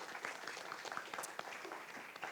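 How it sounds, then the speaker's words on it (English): Audience applause at a youth camp conference session, a dense wash of many hands clapping at a moderate distance, fairly faint and steady throughout with a little murmur of voices. "May we give them a round of applause"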